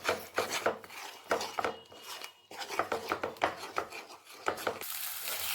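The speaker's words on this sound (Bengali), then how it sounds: "এবার আমি মশলাটাকে খুব ভালো মতন কষিয়ে দেব।" A spatula scrapes and rubs in quick rhythmic strokes as a thick spice masala of turmeric, chilli, salt and sugar is stirred and fried in a pan for Bengali chital fish muitha, close and clear without speech.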